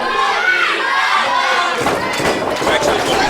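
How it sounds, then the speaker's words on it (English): Wrestling crowd at an indoor show yells and chants in a dense, loud wash of voices, swelling into rhythmic shouts with a few thuds in the second half. "The crowd chanting Wumpy Hound Dogg."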